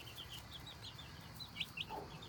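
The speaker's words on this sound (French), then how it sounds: "la poule qui mange bien, qui se nourrit" A hen with her chicks makes soft, quiet clucks and high chirps, scattered and faint against a low background hum.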